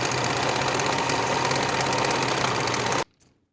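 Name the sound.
sewing machine finishing a skirt's center seam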